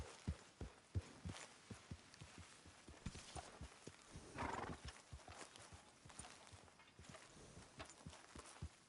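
Horse hooves clip-clop in a steady walking rhythm on hard ground in a PS4 video game, with a brief snort or whinny partway through.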